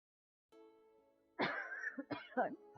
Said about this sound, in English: I'm I'm so sorry that I keep coughing right in your ear.